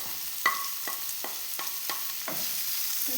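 A spatula scrapes and stirs through sizzling onions with tomato, green chili, ginger and garlic in a pan, six or seven evenly spaced stirring strokes over a steady soft frying hiss, no voices.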